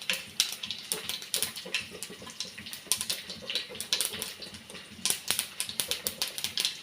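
Mustard seeds, chili and fenugreek spluttering in hot oil for a tomato pachadi, a quiet run of sharp, irregular pops and crackles over a faint sizzle, with bursts clustering toward the end.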